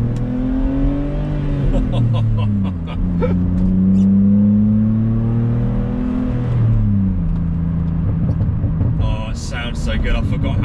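A 2004 BMW Z4 with about 160,000 miles revs and accelerates through the gears, a loud close engine drone rising and dropping in pitch with gear changes, someone talking over it.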